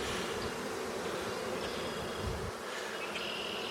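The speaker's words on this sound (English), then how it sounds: "They're fanning the hive" Honey bees fanning and buzzing around a disturbed hive make a dense, continuous close-up drone that stays steady throughout, with no voices.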